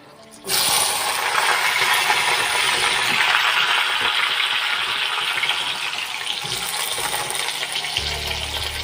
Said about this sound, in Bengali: এবার আমরা আলুগুলো ধুয়ে তুলে দেবো